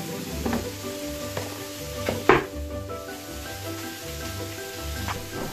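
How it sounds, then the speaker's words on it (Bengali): A whole salmon grilling, giving a steady close sizzle with a few sharper pops and crackles and a low hum underneath, no voices. "স্যামনটা গ্রিল হচ্ছে, ভেজিটেবল স্টিম হচ্ছে।"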